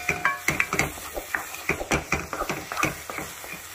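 Dry fruits being stirred into carrot halwa in a pan, giving a steady run of soft scraping and clinking strokes with a faint sizzle underneath, close and moderately loud.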